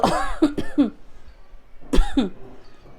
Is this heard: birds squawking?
no